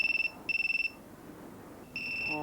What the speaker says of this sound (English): you know what it's like when a mobile phone goes off anywhere